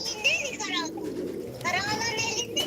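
Repeated calls from a black bird on the ground ring out close by, with warbling, rising and falling notes, and a voice speaks faintly in the background.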